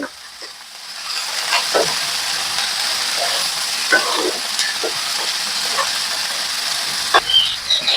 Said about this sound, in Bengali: ঠিক এই পর্যায়ে এবার সমস্ত কিছু একটু সামান্য ভেজে নেব।